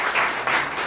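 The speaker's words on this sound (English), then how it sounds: "a little applause" Audience applauding at a jazz concert, a steady wash of hand claps from a crowd, fairly loud and close, with no talk over it.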